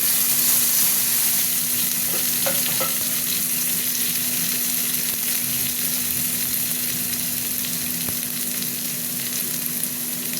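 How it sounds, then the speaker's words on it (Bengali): Onion and tomato paste fry in a pan with a steady, close, even sizzle and a few faint stirring clicks, with no talk. "এটা একটু ভাজা ভাজা হোক টমেটোটা, তারপরে আমি মশলা দেবো।"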